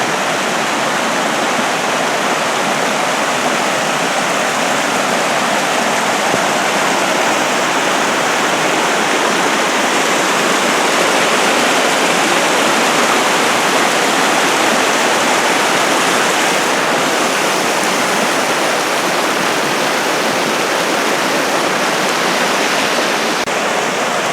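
Loud, steady rushing of creek water just below Tamanos Creek near Owyhigh Lakes, a dense, unbroken roar with no pauses for the full length.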